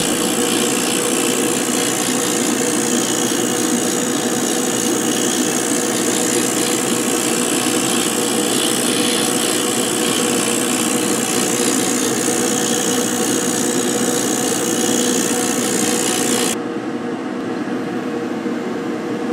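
A workshop exhaust fan for a laser etching setup runs as a steady, loud broadband whir with no change in pitch, then cuts to a quieter hum near the end.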